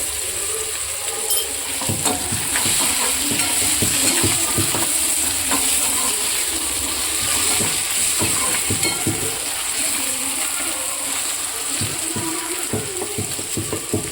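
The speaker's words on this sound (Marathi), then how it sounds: "तेलामध्ये होऊ द्यायचे आहे थोडं आपण परतून मीठ घालायचं" Tomatoes and salt sautéing in hot oil in a pan for a Marathi-style chickpea curry, a steady close sizzle with frequent scraping and clinking stir strokes running throughout, no voices.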